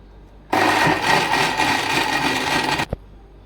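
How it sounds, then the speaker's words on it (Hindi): A blender whirs loudly and steadily for about two seconds while blending grewia (phalsa) juice, then cuts off abruptly, followed by a single small knock. "अब हम 1 to 2 मिनट्स के लिए बहुत अच्छे तरीके से ब्लेंड कर लेंगे।"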